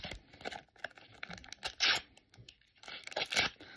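Harry Potter card packets are torn open in several quick, rough rips, mixed with crinkling foil wrappers. The sounds are close and fairly quiet, with no talking.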